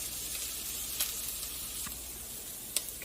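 Spinach sizzles softly in a pan for an omelette, a steady close hiss of frying with a few faint clicks and pops scattered through it.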